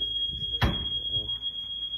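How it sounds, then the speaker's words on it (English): Smoke or fire alarm sounding indoors at a youth soccer event stay, a steady piercing high electronic tone held throughout, with a brief thump and faint voices underneath. "Today we just got the fire alarm going off and stuff."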